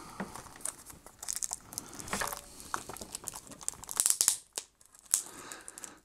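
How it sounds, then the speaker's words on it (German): Packaging for an ezcoo USB 3.0 4K capture card is opened up close: plastic and paper crinkle and rustle, with a couple of tearing rips and loud crackling bursts, then a brief near-silence and more handling. "Wir werden jetzt erstmal das Gerät auspacken und uns angucken."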